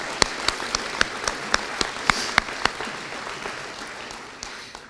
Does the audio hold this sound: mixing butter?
no